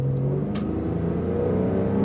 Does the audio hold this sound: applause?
no